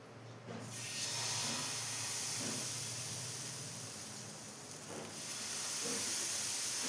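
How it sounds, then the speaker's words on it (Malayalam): Dosa batter for a soft coconut dosa made without urad dal hits a hot pan, giving a steady, close sizzling hiss that stays loud throughout with faint clinks. "ഇതിലോട്ട് ദോശ ബാറ്റർ ഒഴിച്ചു കൊടുക്കാം."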